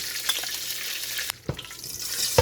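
Annatto oil poured into a hot pan for beef tripe curry gives a soft hiss and crackle, quiet and close, with a few clinks and light stirring noises and no talking.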